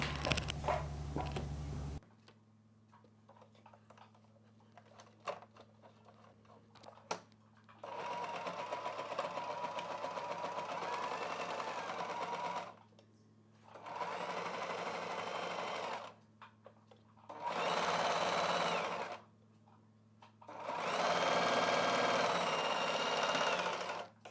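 Five stretches of steady electric sewing-machine whirring as cloth for a kids' hair scrunchie is stitched, each run stopping cleanly, with a low constant hum and a short handling noise before the first.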